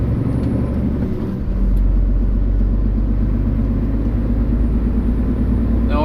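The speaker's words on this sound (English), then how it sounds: "we're just going to power it up the hill here, see how the Optic Cruise gearbox does." A truck with an Opticruise gearbox powers uphill under load, its diesel engine giving a loud, close, steady low rumble that swells slightly after a brief hiss at the start, with no voices.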